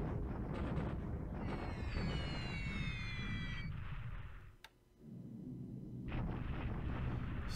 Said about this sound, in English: Same thing here, bombing Singapore airfields to put some damage on the base so we can't build forts.